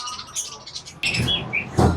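Caged birds chirp and tweet in a bird shop in Habiganj, with repeated short calls overlapping at close range and a few louder bursts alongside light handling bumps.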